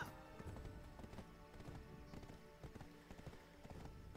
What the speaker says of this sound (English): It's been a really long time since I rode my horse in this game